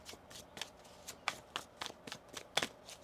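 Tarot cards being shuffled by hand during a reading, a run of crisp riffling bursts and soft slaps repeating roughly every half second, close and fairly quiet with no talking.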